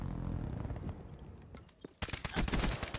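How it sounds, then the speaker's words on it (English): Gunfire in the multiplayer shooter Call of Duty: Black Ops 3, with a sudden loud burst of sharp shots cutting in after a quieter stretch of rumbling game ambience and continuing as a dense rapid volley. "Surprised me with that gunshot."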